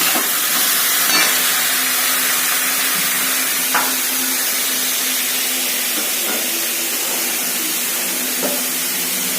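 Spices and turmeric fry in a pan while cooking a dried-fish and eggplant curry, giving a continuous close hiss and sizzle with faint stirring taps.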